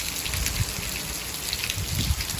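Rain falls in the Kharkiv region during a stormy summer spell, a continuous close hiss of drops with scattered heavier splashes and dull low thumps, no speech.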